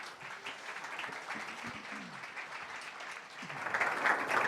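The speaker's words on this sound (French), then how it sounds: "Je demande d'applaudir Olivier Colombin et Camille Richard." Moderately distant audience applause greets two speakers at a gamification in finance conference session. The clapping is soft and steady, swelling somewhat louder toward the end.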